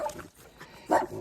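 Dogs greet arriving visitors with short whimpering yelps and snuffling grunts, a few close bursts, the loudest near the end.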